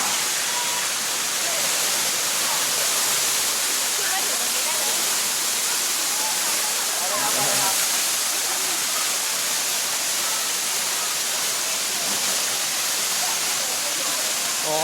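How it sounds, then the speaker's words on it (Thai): Sai Yok waterfall pouring steadily in a broad, constant roar of falling water, loud and unbroken throughout, with faint voices blending into the rush. "เดี๋ยวขอไปอยู่ใกล้ๆน้ำตกหน่อย"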